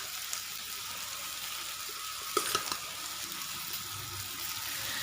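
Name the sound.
rice frying in pan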